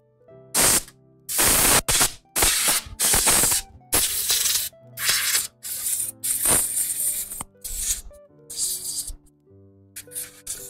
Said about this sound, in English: Pro tip, folks, have 2 cans of compressed air.